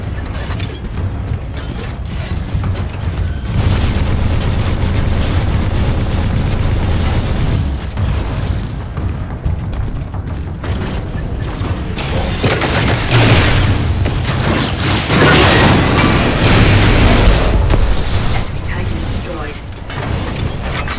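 Mortar fire and heavy explosions in the Titanfall 2 Frontier Defense mode, a dense, loud run of booms and clanking mechanical combat noise with voices faintly mixed in.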